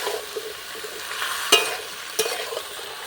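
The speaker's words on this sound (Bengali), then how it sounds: "শাপলাগুলো যে ধুয়ে পরিষ্কার করে রেখেছিলাম কড়াইতে দিয়ে দিচ্ছি নাড়তে নাড়তে কিন্তু একদম সেদ্ধ হয়ে যাবে" Water lily stems cook in a wok, a soft low sizzle broken by two distinct scraping clacks of a spatula stirring.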